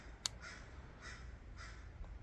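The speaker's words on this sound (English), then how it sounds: "Lots of noisy birds and all that stuff." Crows caw outdoors in Pacific Grove, California, three or four harsh calls spaced about half a second apart, moderately distant over a low background hum, with no voices.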